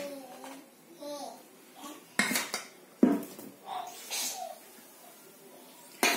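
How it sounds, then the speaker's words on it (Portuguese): Bread dough is worked by hand in a bowl while flour goes in bit by bit for a no-knead loaf, giving sharp clatters and knocks of bowl and utensils between quieter scraping, with faint background voices. "Vou adicionando a farinha aos poucos e vou mexendo com a mão"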